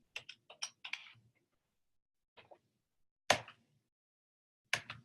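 Typing on a computer keyboard comes in short clustered bursts of crisp clicks, then a pause, followed by a few isolated louder key strikes.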